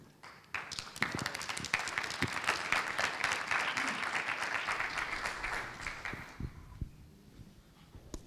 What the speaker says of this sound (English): let's give a round of applause for Sugandhi